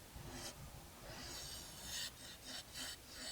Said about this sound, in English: I start the hollowing process, which goes per usual, starting with the bowl gouge